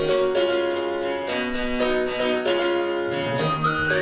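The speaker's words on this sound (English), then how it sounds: "it's a bell at the beginning." Bell-like chime tones opening a song, ringing melodic notes over sustained musical harmony, heard without any voices.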